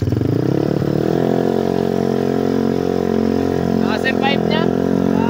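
A loud motorcycle engine with an exhaust pipe runs close by in a steady, rough, harmonic-rich drone, with a voice briefly speaking over it near the end.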